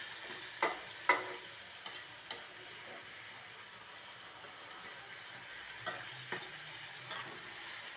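A dish stirred and sautéed in a pan, with a soft, low sizzle beneath a handful of sharp spoon knocks and scrapes, fairly quiet and close.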